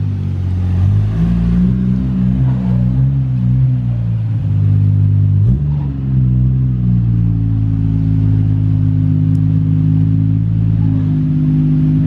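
A Nissan Skyline R34 GTR engine runs loud and close on a dyno, a deep steady drone with rising and falling revs, one quick blip in the middle, then a settled, even hum.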